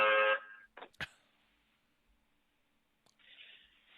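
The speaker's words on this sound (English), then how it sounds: "got a stupid alarm on my van, but there's no fob for it" A car alarm going off on a van, short loud electronic buzzing honks separated by a couple of sharp clicks and a long quiet gap, fairly close.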